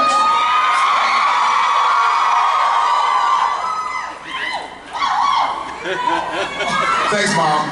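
A convention panel audience at Supernatural Dallas 2019 fills the room with loud cheering, whoops and shouting that dip briefly in the middle before swelling again, with laughter and voices mixed in.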